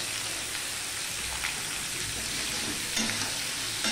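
Turnip being stirred with turmeric and salt in a pan over a medium-low gas flame gives a steady, close frying sizzle with soft scraping of the stirring spoon and a few louder scrapes.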